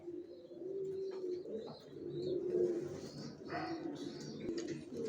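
Pigeon squabs coo steadily in a low, throaty murmur, close by, with soft bird calls and light rustling of flapping wings mixed in.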